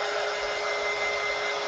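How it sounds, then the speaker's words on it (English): A hair dryer runs on its full setting, giving a loud, continuous whooshing blow that stays steady throughout with no voices. "Hair dryer with full setting."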